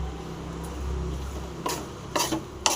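A spoon scrapes and clinks through lemon pickle with chilli powder and salt in a pan, a few distinct metallic scrapes over a low, steady background hum, close and moderately loud.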